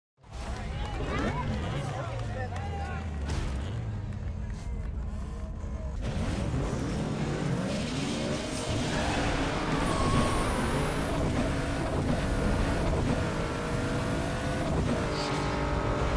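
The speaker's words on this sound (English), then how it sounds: "let's quickly go and have a drag race against opponents" Pontiac GTO 5.7L V8 with a Stage 3 turbo kit in Need For Speed Underground 2, revving loudly and accelerating through gears in a drag race, with steady engine roar, rising pitch sweeps, and game music or talk underneath.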